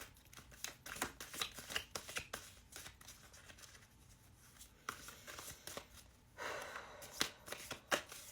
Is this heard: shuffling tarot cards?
yes